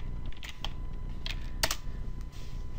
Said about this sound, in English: So you type in home group in the search bar